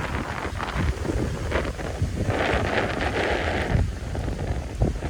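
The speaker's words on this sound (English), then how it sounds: "I hope the wind's not affecting this video too much because it is windy out here today." Steady wind buffeting a microphone, a continuous rough rumble with gusty swells throughout and no voices, outdoors at Washington Oaks Gardens State Park in Palm Coast, Florida.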